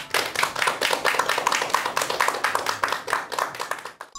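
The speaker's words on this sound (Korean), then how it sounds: "여러분들 큰 박수 부탁드립니다." Audience applause fills a lecture hall after a speaker is introduced, a dense steady clatter of many hands clapping close and loud for about four seconds, then stopping abruptly.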